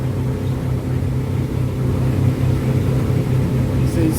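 Engine of a Stabicraft 27 boat running on autopilot as it speeds up, a steady loud close motor drone with a constant low hum throughout, no talking.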